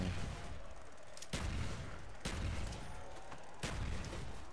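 Gunshots in a Call of Duty Black Ops zombies match on Kino der Toten, several sharp loud bursts at irregular intervals over a noisy game background.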